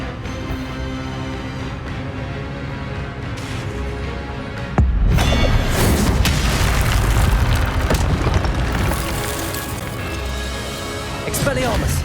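A spell cast in Hogwarts Legacy, the Expelliarmus disarming charm, bursts out as a loud boom partway through, layered over dense game effects and music, with a voice speaking over it.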